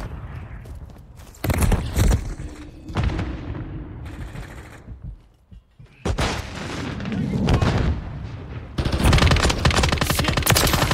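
Loud, sustained machine gun bursts in Call of Duty Modern Warfare III multiplayer, several long rattling volleys separated by short quieter gaps, with booming hits mixed in.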